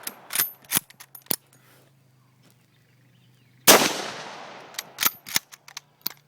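A Mosin Nagant 91/30 rifle fitted with a muzzle brake fires once, a sharp loud blast with a trailing echo, amid clicks and clacks of the bolt being worked before and after the shot.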